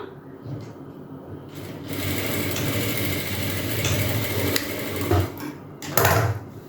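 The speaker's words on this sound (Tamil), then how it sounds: "ஆல்ரெடி எங்கே முடியுதுன்னு மார்க் பண்ணியிருக்கோமோ அந்த இடத்துல நம்ம தையல் போட்டுக்கலாம்" Sewing machine stitching a seam on shorts fabric at a tailoring class: a quiet start, then a loud, continuous whirring run close up, with small clicks and a brief pause near the end.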